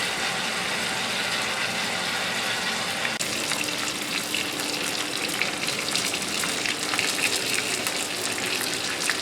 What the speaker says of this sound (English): I hope y'all heard that sizzle